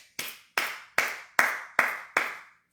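Six sharp hand claps in a steady, even rhythm, each a crisp bright burst with a quick decay, close and fairly loud with silence between them.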